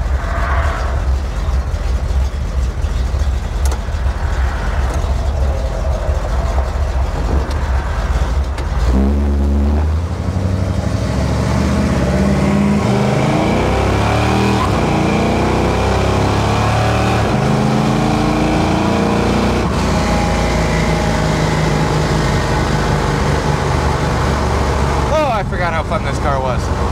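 Car engine droning steadily while driving on a cold day, then climbing through rising and falling revs as it accelerates through the gears, heard from inside the cabin with a voice talking over parts of it.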